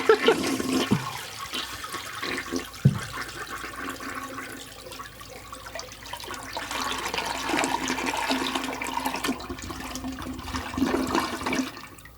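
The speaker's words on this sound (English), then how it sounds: "it's been a while since we've done a toilet flush on the show" A toilet flushes nearby in a long, loud rush of water that swells, holds steady for several seconds and tapers off at the end, with no talking over it.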